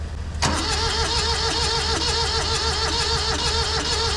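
A cheap old tractor's engine cranks briefly, then fires and keeps running with a loud, close, rough idle, its uneven chugging pulsing steadily throughout.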